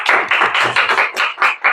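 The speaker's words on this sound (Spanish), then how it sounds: "Vamos a recibirlo con un fuerte aplauso." Short burst of close hand clapping welcoming a guest to a talk, a handful of sharp, evenly spaced claps in under two seconds.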